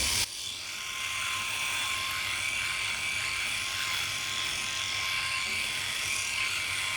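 A Philips i9000 Prestige electric shaver hums steadily at close range, a constant buzzing drone running alone throughout.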